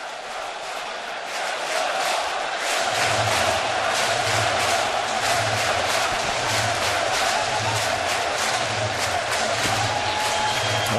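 A packed ballpark crowd roars at a 2013 Reds playoff game, a loud sustained wall of cheering that swells in after a quiet moment, with a rhythmic chant pulsing underneath.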